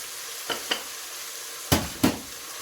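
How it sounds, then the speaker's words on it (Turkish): Minced meat and onions fry in a pan with a low, soft sizzle, broken by four quick scraping stirs in two pairs. "kıymamızı soğanla birlikte 4 dakika kavurduktan sonra"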